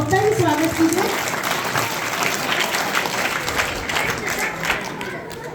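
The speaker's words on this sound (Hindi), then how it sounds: "आप सब अपने लिए एक जोरदार तालियों से आप अपना ही स्वागत कीजिए" Dense applause from a staff gathering at a school principal's farewell, with a voice briefly over the start before the clapping carries on steadily and fills the room.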